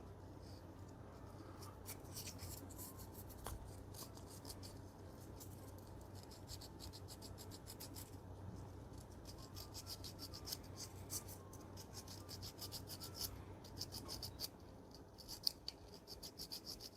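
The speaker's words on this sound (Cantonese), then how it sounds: "砂紙綁住轉圈咁樣慢慢打都得㗎啦" Sandpaper wrapped around a tool is worked in slow circles over a part of a HICAPA pistol that will not fire, producing a faint, continuous rasping and rubbing with small irregular scratches and no talk.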